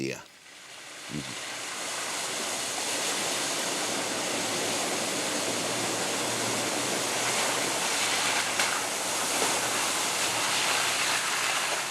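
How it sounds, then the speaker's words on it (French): Ocean waves breaking on the Costa Rica coast, a continuous broadband wash of surf that rises after a brief quiet start and rolls on steadily, loud and close, with no talk heard. "Il y a de belles vagues quand c'est comme ça."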